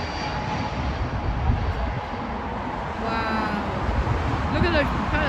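An ATR 72-600 turboprop airliner lands at Heathrow, its engines giving a steady, loud, broad roar with a faint propeller hum that swells slightly toward the end.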